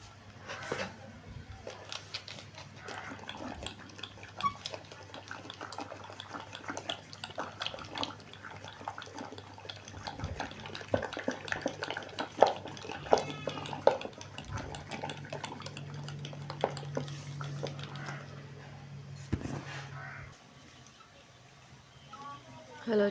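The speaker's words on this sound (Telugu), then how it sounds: "ఈ పెరుగులో నేను కొన్ని నీళ్ళు వేసుకొని ఇలా మజ్జిగ చిలుకుతున్నానండి" Diluted curd is churned by hand into buttermilk in a village kitchen, a soft rhythmic sloshing and swirling of liquid with occasional vessel knocks, while a voice talks over it.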